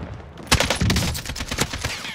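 Rapid gunfire in a first-person shooter video game, dense bursts of overlapping shots fired in quick succession, loud and close.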